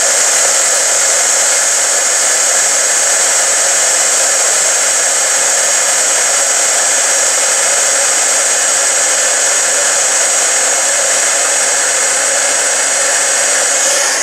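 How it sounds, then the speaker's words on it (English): A heat tool blows with a loud, steady whirring hum, held in one spot to melt embossing powder on a handmade fall card, droning unbroken with no talking. "we're going to use the heat tool, and I'm going to hold this straight up and down to melt the powder"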